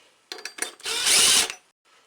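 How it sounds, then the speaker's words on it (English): A power drill whirs in short bursts, then runs steadily for about half a second as it turns over a Stihl SH86C blower's small engine, close and fairly loud. "I can actually turn this over with my drill to see if it's got spark."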